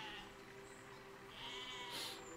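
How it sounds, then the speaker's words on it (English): A sheep in the video game Besiege bleats faintly a couple of times over a quiet background hum. "Hey, sheep!"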